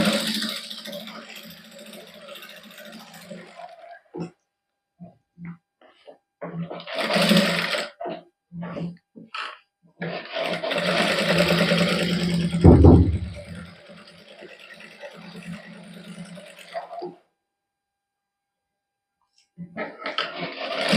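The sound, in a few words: sewing machine stitching a cotton suit neckline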